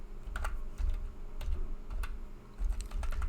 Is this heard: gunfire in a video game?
no